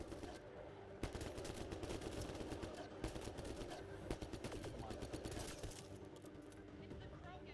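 Automatic gunfire rattles through a Mass Effect Andromeda firefight, dense overlapping shots with sharp louder cracks about once a second, mixed with combat noise and voices.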